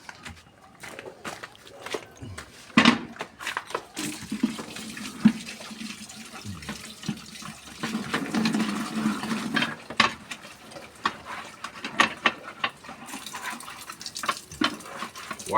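Water runs and splashes during washing, with irregular bursts of spray and dripping, fairly close and moderately loud, alone without talk.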